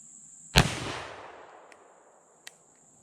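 An 1847-era Colt Dragoon black powder revolver fires a 220 grain bullet, one sharp, loud shot whose boom fades slowly over a second or more, then a faint click follows.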